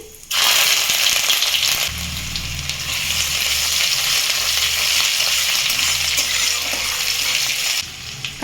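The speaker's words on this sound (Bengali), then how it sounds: "আদা কাঁচা লঙ্কা ভালো করে ভেজে নিয়েছি" Chopped ginger and green chili frying in hot mustard oil with cumin seeds and dried chili, a loud, steady, close sizzle with occasional stirring scrapes, no talk.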